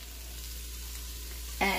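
Sliced bok choy hits a hot pan, a steady frying hiss that swells into a louder sizzle right at the end as the angled-cut greens go in.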